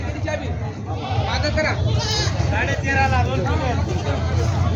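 Goats and sheep bleat at the Vasmat livestock market in Maharashtra, several calls rising over a steady crowd murmur and nearby voices.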